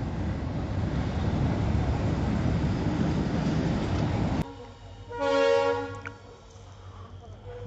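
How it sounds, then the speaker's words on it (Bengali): A goods train rolls past a roadside spot where a motorbike has stopped, a loud, close rumble and clatter of wagons that cuts off abruptly, followed by a train horn sounding in the distance and a low lingering hum. "মালগাড়ি যাচ্ছে।"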